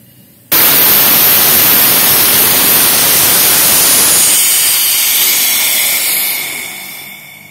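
An Earth Man AC-250G air compressor kicks on abruptly and charges with a loud, close, continuous hissing roar. The roar holds steady for several seconds and then slowly fades toward the end.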